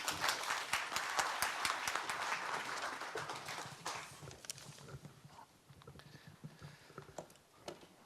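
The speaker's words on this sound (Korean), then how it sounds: "큰 박수로 환영해 주시기 바랍니다" An audience at a Korean broadcasting forum gives a burst of applause to welcome a presenter; scattered clapping is strongest at first, then thins out to a few claps and fades as the room quiets.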